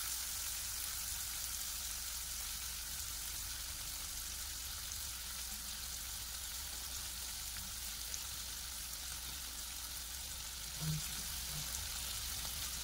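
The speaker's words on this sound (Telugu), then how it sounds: "ఇందులోకి జీడిపప్పు వేసుకొని బాగా ఫ్రై చేసుకోండి" Cashew nuts fry gently in a pan with tomato for a kaju butter masala gravy, a faint, even sizzle and hiss throughout, with a single soft knock near the end.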